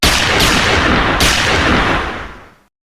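Loud, sharp gunshots ring out in a police shooting scene, two close blasts in quick succession over a sustained rumbling boom that fades away after about two and a half seconds.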